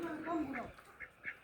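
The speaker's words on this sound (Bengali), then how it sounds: "ওই যে দেখো অনেক হাঁস মুরগি আছে ভিতরে" Ducks kept with hens in a backyard coop quack a few times, fairly faint, mixed with people talking nearby.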